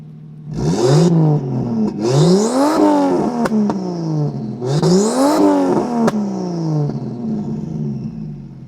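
A boosted, turbocharged car engine runs and revs hard in repeated bursts, each rising sharply then falling back, close and loud with no talking.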